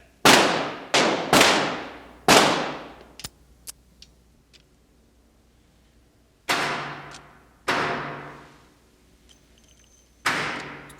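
Repeated gunshots as a gun's clip is emptied, sharp loud cracks each trailing off in a decaying echo, three in quick succession, a pause with faint ticks, then three more spaced shots, with no talk.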